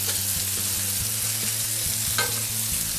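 Onions and rösti potatoes sizzling on a barbecue grill, a steady close crackling fry with faint stirring clinks, no voices.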